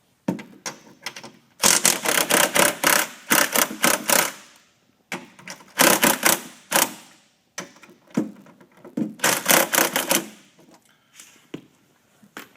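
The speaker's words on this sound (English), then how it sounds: "I'm going to take our 17mm socket and pull the front torque arm bolt out." Ratchet with a 17mm socket backing out a front torque arm bolt on a Polaris ProTector install, heard as several bursts of rapid dense clicking separated by short pauses, close and loud.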